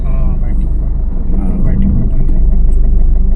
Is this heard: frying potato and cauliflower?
no